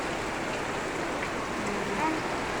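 Steady, dense hiss of heavy rain pouring down nearby, constant and unbroken throughout with no pauses.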